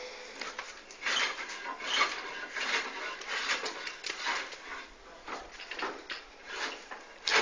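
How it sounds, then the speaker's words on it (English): Hand plane shaving salvaged wood for a home-built cabinet, a run of repeated rasping strokes, fairly close and steady with no talk. "Been planing wood that we got from neighbor's house."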